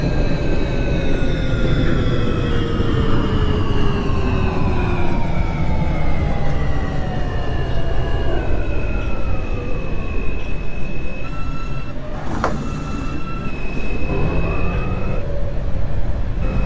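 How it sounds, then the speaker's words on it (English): A simulated R160 L subway train in a video game runs loudly with a whining motor tone that slowly falls in pitch as it slows, with a brief clank partway through over steady rumbling. "This is a Broadway Junction bound L train"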